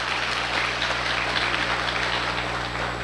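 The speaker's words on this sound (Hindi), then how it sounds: "एगेन हम चाहेंगे जोरदार ताली" Applause from an audience at a speech, a dense, continuous patter of many hands clapping at steady volume, with a low hum underneath and no one speaking.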